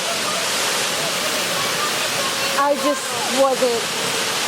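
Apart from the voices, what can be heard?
Fukuyawa Falls waterfall in Okinawa, Japan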